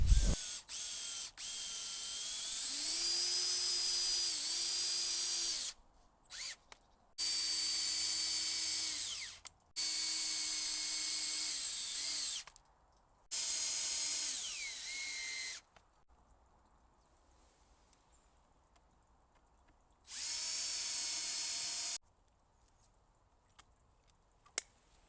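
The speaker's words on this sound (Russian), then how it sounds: "Доску прикрутила шурупами." A cordless power drill whirs in several bursts of a few seconds each, driving wood screws into a board for a garden seat, with pitch dipping under load and quiet gaps between runs.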